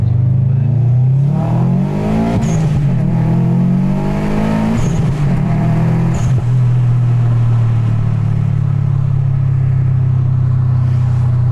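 A 2011 Subaru WRX STI with an aftermarket exhaust and downpipe accelerates hard from inside the car. The engine note climbs loudly and closely through several quick gear changes, then settles into a sustained drone.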